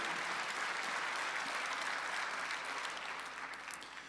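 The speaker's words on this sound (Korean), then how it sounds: "박수 하나 주세요." Congregation applauding during a Sunday worship service at a church, a dense, steady wash of many hands clapping that holds evenly for four seconds and eases slightly toward the end.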